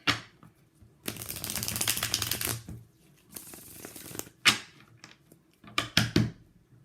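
Tarot cards being shuffled in a few bursts of riffling and flicking, close and crisp, with short pauses and scattered taps between shuffles.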